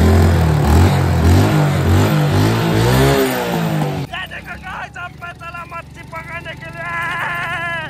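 A motorcycle engine revs loudly and close, rising and falling in pitch for several seconds, then settles into quieter running while a voice talks over it.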